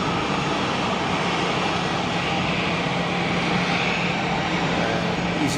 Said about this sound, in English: EasyJet on the taxi as the Air Canada A330-300.